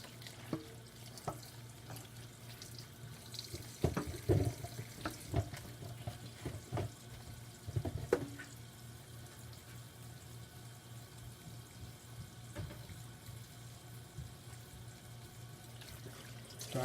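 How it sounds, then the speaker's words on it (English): Dyed skating tights are wrung out by hand in a basin of water, giving soft splashes, drips and squelching twists, with a few louder sloshes against a low steady hum. "So I'm just wringing these out."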